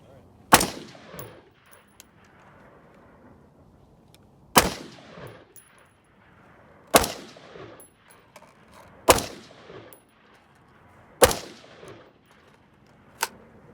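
A 10.5-inch Palmetto State Armory AR pistol fires five loud, sharp shots about two seconds apart. Each crack is followed by a short echoing tail, and a fainter sixth shot comes at the end.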